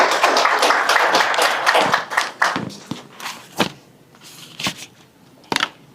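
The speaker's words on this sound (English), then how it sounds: "Let us clap for her as she comes." An audience at an apprenticeship program launch gives a burst of applause for a guest speaker, dense at first and then thinning into scattered claps with a few footsteps and thumps.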